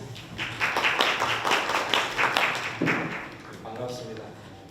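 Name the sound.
audience applause welcoming speaker at forum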